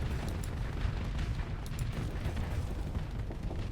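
Missiles explode against a ship in the space combat game Starsector, a dense, continuous roar of booming blasts with crackling bursts layered on top, loud and sustained, with no talking.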